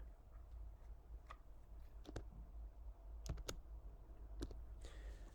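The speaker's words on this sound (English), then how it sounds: "Next, I'll press the Command plus C keys to copy the image to the clipboard." Keys on a computer keyboard pressed for a Command plus C copy shortcut, a few sharp, faint clicks scattered over a low steady hum.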